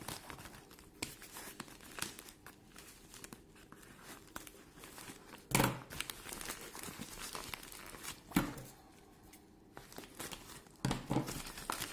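A cardboard parcel box holding a Xiaomi Dafang camera is cut and opened, giving soft crinkling and scraping with a few sharper tearing rips, quiet and close, no talking.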